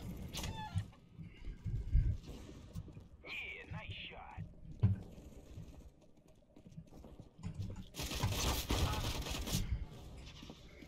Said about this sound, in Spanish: Gallina.